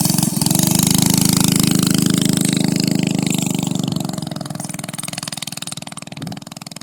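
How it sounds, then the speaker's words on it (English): A homemade minibike engine, a doodlebug on its first test ride in Alaska, runs loud and steady up close with a buzzing drone, then fades slightly as the bike moves away along the road. "Here goes Johnson on the homemade mini bike."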